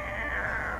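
A cat lets out a single drawn-out, whiny meow lasting under a second, close and fairly loud.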